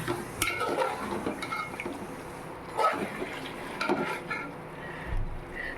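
Intermittent scraping and clinking of a utensil stirring mutton curry in a cooking pot, a few distinct strokes with a soft sizzle underneath, close by.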